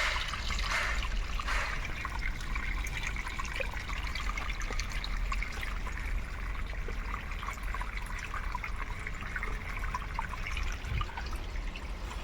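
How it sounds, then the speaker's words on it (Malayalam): Continuous trickling and splashing of green water draining out of a tank, steady and close throughout, with no voices. "പച്ചവെള്ളം പോയിക്കൊണ്ടിരിക്കുകയാണ്"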